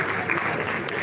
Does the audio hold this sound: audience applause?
yes